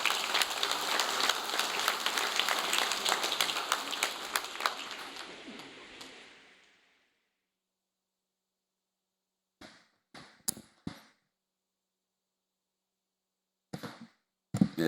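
Audience applause at a ceremony commemorating the 190th anniversary of the abolition of slavery: a dense, steady burst of clapping for about six seconds that fades out, followed by silence and a few scattered short knocks.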